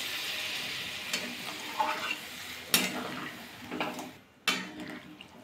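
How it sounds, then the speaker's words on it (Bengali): Hot water splashes into a pan of frying spiced mixed vegetables, giving a soft hiss and sizzle with a few sharper bursts, fairly quiet and close with no talking. "এবার গরম জলটা দিয়ে দেবো।"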